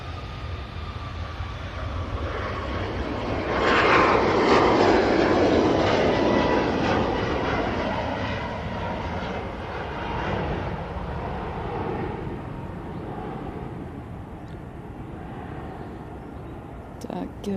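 A Ryanair jet at Manchester Airport rumbles in the distance, its engine roar swelling to a louder broad rush and then fading, while people talk over it.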